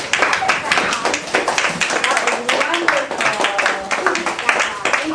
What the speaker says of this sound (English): Can we give our visitors and William a big round of applause?